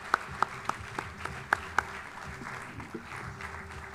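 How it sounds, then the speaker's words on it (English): An award ceremony audience at a fintech challenge grand finale claps: a few loud, distinct claps stand out over a thinner patter that fades out toward the end. "Let's keep clapping till he gets here."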